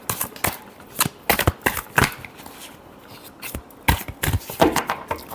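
Tarot cards are shuffled by hand close up in a series of sharp, riffling bursts and slaps with brief gaps between them.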